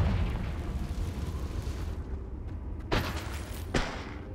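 A Confringo explosion spell from Hogwarts Legacy goes off as a long, loud rumbling blast, followed by two sharper bursts near the end.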